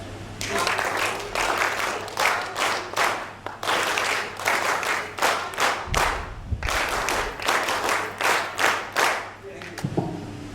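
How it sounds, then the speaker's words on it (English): A group of NSS volunteers at a university orientation program claps in unison, sharp rhythmic bursts of clapping repeating in patterned sequences with brief pauses, loud and close, filling the room. "That was a fun clapping activity."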